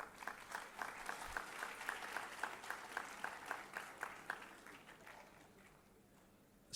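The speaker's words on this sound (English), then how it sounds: "Applause, please." A hall audience claps at an annual prize distribution ceremony, a fairly faint but steady round of applause with distinct individual claps that fades away toward the end.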